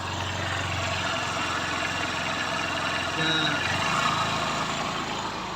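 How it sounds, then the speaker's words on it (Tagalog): Motorcycle engine revving hard while riding through deep flood water, a steady loud buzzing drone with slight rises in pitch; a brief spoken word occurs. "Dapat gigil ang makina. Kumbaga, pwersado siya."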